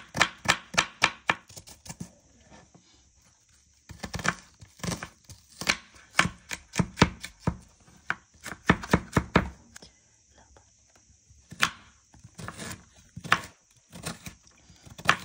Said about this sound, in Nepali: अब हामी प्याज काट्दै छौं चटपटेको लागि।